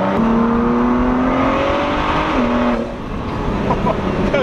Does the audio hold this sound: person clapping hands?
no